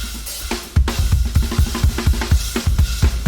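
A drum kit pattern played with a right-hand sweep on the snare followed by a left-hand accent, producing a quick, dense run of sharp snare and drum hits with steady rhythmic accents, close and loud with no talking.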